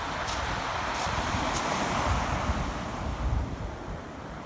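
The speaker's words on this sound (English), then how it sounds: "You might not be able to see the sea, but you can sure hear the sea." Sea waves heard from a promenade, a loud continuous broadband wash of surf with wind buffeting the microphone, swelling and easing gently with no talk.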